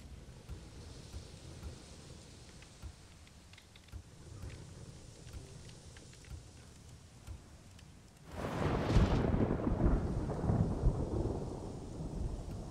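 Thunder rolls through the samurai game Ghost of Tsushima on PS4, a low rumble under rain and wind that swells into a loud, close crack and boom partway through.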